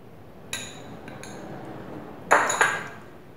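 A spoon scrapes and clinks against a pan while capsicum halwa is stirred, producing a few sharp metallic knocks spaced apart over faint background hiss.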